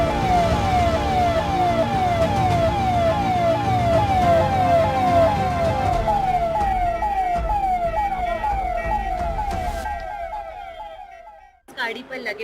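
Loud, continuous wailing siren from a hooter on a VIP convoy vehicle, with a fast repeating rise-and-fall pattern and road traffic noise beneath, fading out near the end before a brief burst of other sound.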